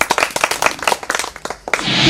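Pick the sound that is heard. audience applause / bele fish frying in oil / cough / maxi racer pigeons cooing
audience applause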